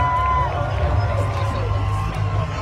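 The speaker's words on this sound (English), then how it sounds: "Give them both a cheer as we see the last fight of Jorvik." Spectators at a Viking skirmish at a festival in York cheer and shout for the warriors, a steady crowd roar running underneath an announcer's amplified voice.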